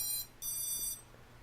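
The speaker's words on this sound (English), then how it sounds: "When you hear this beeping sound, that means they're all connected and working." Electronic speed controllers on a 220mm racing quadcopter beep on connection: two short high electronic tones, the second longer, fairly faint and clear with no talking.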